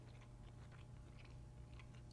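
Crisp, faint crunchy chewing of roasted cauliflower sprinkled with Parmesan, several close bites in a quiet room.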